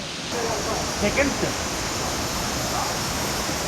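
Water pouring down the second tier of a cold waterfall in Araku gives a steady, full roar, close and unbroken, with a faint voice briefly mixed in.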